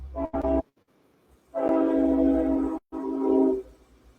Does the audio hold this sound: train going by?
yes